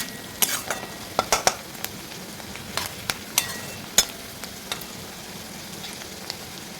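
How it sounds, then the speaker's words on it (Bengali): Onions fried and stirred in a pan for a potato and pea curry: a steady soft sizzle with a run of sharp spatula scrapes and clinks, clustered early and then spaced out, close and fairly quiet. "এটাকে নাড়িয়ে নেবো ভালোভাবে আমি পেঁয়াজটাকে একটু লাল লাল করে ভেজে নেবো"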